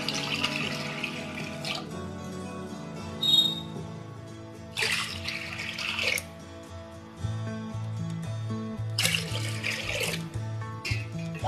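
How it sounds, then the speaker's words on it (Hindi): Water runs from a tap in short bursts, splashing into a metal pressure cooker, with quiet background music in between. "थोड़ी पानी डालेंगे।"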